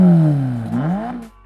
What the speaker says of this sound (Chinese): 排气声浪也更加悦耳。